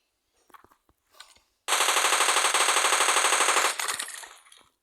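A loud, rapid burst of automatic gunfire lasts about two seconds in a 1v1 shooting video game. A few quieter shots and clicks come before and after it.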